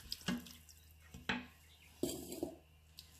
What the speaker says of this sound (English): Now add 2 cups of water.